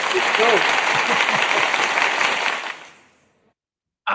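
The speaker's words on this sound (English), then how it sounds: "That deserves a round of applause." A loud burst of applause and cheering fills the room for a couple of seconds, then dies away into silence, with a voice returning briefly at the very end.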